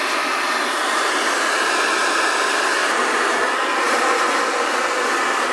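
A hair dryer blows steadily on high speed and high heat while styling long hair with a brush, a continuous loud whooshing roar close to the microphone with no talking.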